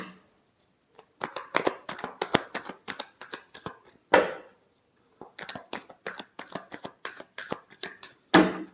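Tarot cards being shuffled by hand, close and quiet, in repeated rapid riffling bursts separated by short pauses, with a few sharper slaps as the deck is set down.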